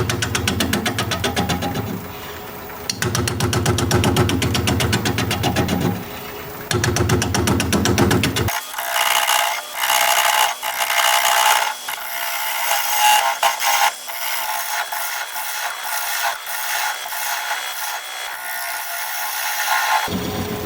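A wood lathe spins at 470 RPM while a 5/8 inch bowl gouge cuts a bowl. A steady dense whir with a rhythmic texture runs first, then a harsher, brighter cutting noise continues for over ten seconds, loud and close.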